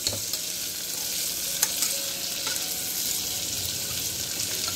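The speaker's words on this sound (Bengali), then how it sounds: "সব সবজি দেওয়া হয়ে গেছে, জাস্ট মিক্স মিক্স মিক্স" Carrots, potatoes and beans are stirred in a pan over low heat, giving a steady soft sizzle. Faint scrapes and clinks from the stirring come through now and then, and nobody talks.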